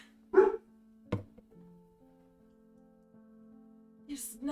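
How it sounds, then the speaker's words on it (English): A dog, one of two named Tobin and Max, gives a couple of sharp, separated barks indoors, with a faint hum between and a softer yip near the end. "Why are you barking?"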